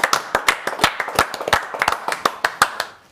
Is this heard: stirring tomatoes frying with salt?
no